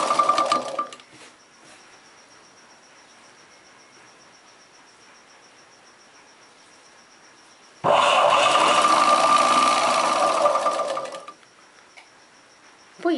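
Sewing machine stitching chudidar pant fabric buzzes in two bursts, a short one at the start and a steady stretch lasting about four seconds later, close and loud over a faint background hum.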